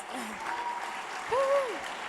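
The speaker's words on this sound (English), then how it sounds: "Give yourselves a round of applause" An audience at a live political event applauds itself, a continuous wash of clapping with cheering voices and a whoop rising over it midway.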